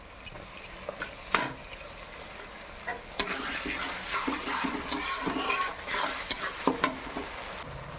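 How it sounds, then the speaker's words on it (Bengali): Ginger garlic paste sputters and sizzles in oil and ghee for mutton biryani while a spoon stirs and scrapes the pan, giving bursts of clatter over a steady close frying hiss. "খুব ভালোভাবে আদা রসুন ভাজা হয়ে গেছে"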